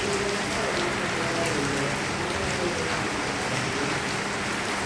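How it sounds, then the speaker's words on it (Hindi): Steady rain pours down, a dense, continuous hiss of drops hitting surfaces. It stays even and constant throughout, with no voices. "कितनी अच्छी बारिश।"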